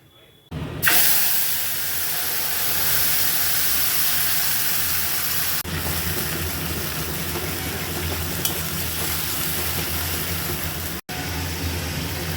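Green chili and tomato paste hit hot oil with cumin seeds for a Bengali hilsa fish curry with potatoes, setting off a loud, steady sizzling hiss that begins abruptly and holds near and constant.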